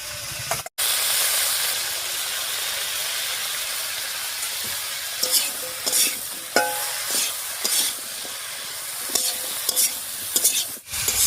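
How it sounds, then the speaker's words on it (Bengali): Vegetables with chopped tomato, turmeric and salt frying in a pan, a steady loud sizzle and hiss with intermittent scraping stirs of a spoon against the pan. "সব সবজিগুলো দিয়ে নাড়িয়ে নিয়েছি"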